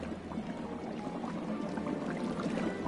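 Water draining away in the LEGO Harry Potter video game, a steady pouring, trickling wash that runs evenly for a few seconds with no voices over it.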